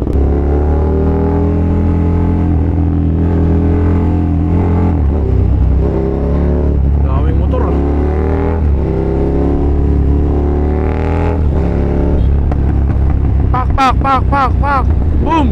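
Big-bike motorcycle engine on a city night ride, loud and close, with a low steady drone rising into revs and sharp crackling pops near the end, wind rush throughout and a voice talking over it.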